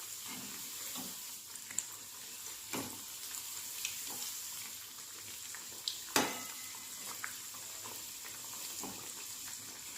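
Chana dal vade deep fry in oil over a low gas flame, giving a faint, steady sizzle with a few soft clinks and knocks from turning them, without talk.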